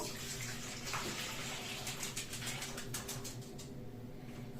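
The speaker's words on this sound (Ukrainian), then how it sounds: "І я оце зараз виливаю у миску." Warm liquid pours from a pot into a bowl in a home kitchen while making dough for cabbage pies, a steady close splashing trickle running for several seconds.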